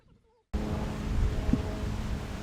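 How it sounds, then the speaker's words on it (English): Steady wind rushing and buffeting against the microphone out on an executive golf course in Florida, starting abruptly after a quiet moment and continuing as a loud, broad roar with gusty swells and low rumble. "with the wind blowing"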